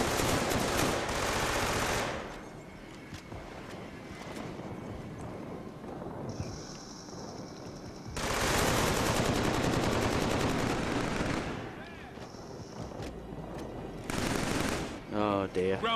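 Gunfire in the shooter game Killzone 3 comes in long, loud, dense bursts of automatic fire, separated by quieter stretches of ambient battle noise.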